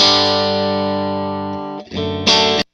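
An electric guitar played through a Divided by 13 FTR 37 amp rings out as a sustained, slowly fading chord, followed by a couple of brief strummed chords and then a sudden cutoff.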